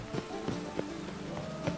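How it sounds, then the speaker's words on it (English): Steady rain in The Witcher 3: Wild Hunt patters on surfaces with scattered louder drips, a soft, even hiss with a faint tonal hum beneath. "And it's raining again."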